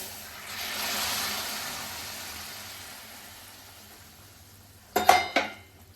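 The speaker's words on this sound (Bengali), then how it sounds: "এখন এর মধ্যে দিয়ে দেব গরম জল" Hot water is poured into desi country chicken curry that has been slow-fried for an hour, giving a broad hissing rush that fades, followed by a few sharp clanks of a utensil against the pot near the end.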